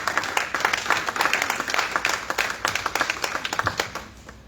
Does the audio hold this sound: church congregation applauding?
yes